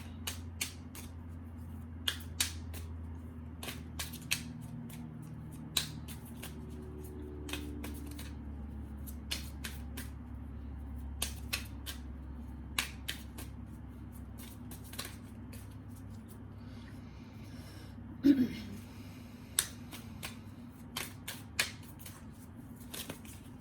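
Tarot cards being shuffled by hand, soft scattered taps and flicks at irregular intervals over a low steady hum, close and quiet with no voices.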